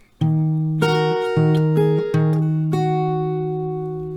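A plucked acoustic guitar plays a short melody of clear sustained notes from a song, several picked in sequence and left ringing, close and bright, with no voices.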